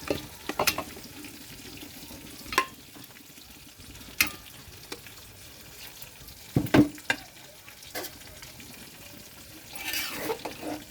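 Potato and mung dal being stirred into rice in a pot, soft wet scraping and clinking strokes at irregular intervals over quiet kitchen background, with a faint sizzle near the end.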